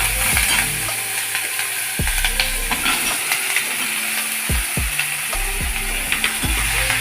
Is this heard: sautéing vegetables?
yes